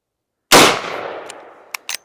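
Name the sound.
357 Magnum gunshot, Federal 125 grain JHP from 1892 24-inch rifle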